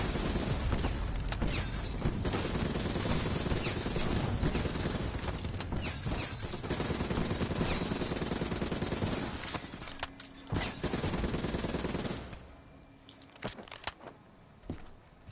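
Sustained, heavy gunfire from Call of Duty: Black Ops 3 Zombies, near and loud, with continuous automatic bursts and scattered impacts that thin into a few isolated shots at the end.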